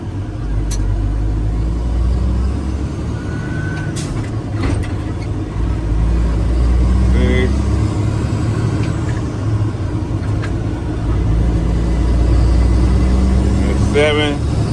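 A 10-speed tractor engine drones loudly and steadily under low rumble as it works up through the gears, with brief shifts in tone as it climbs; people talk over it at times.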